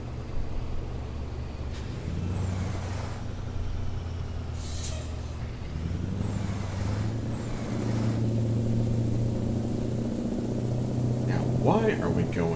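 Road traffic in American Truck Simulator around Houston: a steady low rumble of engines, with an air brake hiss and passing vehicles, under someone talking.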